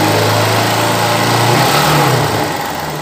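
A 2007 Honda CG 150 ES motorcycle engine revs up loud and close, a steady buzzing drone that rises in pitch, holds, then eases slightly toward the end.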